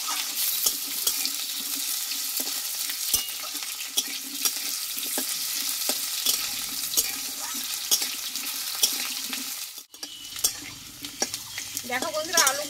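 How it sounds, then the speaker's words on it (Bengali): Cut, washed potatoes frying hard in hot oil for a pumpkin curry, a steady close sizzle with stirring scrapes and clicks throughout, briefly dipping before the frying picks back up. "দিয়ে আলুটা একটু ভালোভাবে কষিয়ে নেবো তেলে আমি"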